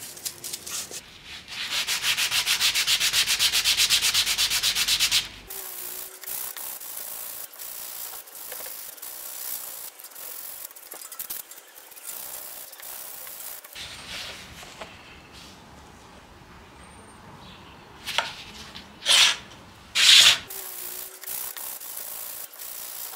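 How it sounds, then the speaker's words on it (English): Wood edges are hand-sanded with 180 and 240 grit sandpaper, beginning with a loud, steady rasping rub for about five seconds, then quieter intermittent scuffs and a few sharp louder strokes near the end. "I do need to give the edges a slight sand as well as smooth the faces. I'll use 180 and 240 grit sandpaper."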